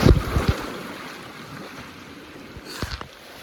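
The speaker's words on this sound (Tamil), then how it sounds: "போட்டா போட்டா கண்ட்ரோல் இல்லாமல் போயிட்டுருக்கு" A runaway boat drifting out of control on open water, with wind buffeting the microphone and soft wave wash, a few sharp knocks near the start and again near the end.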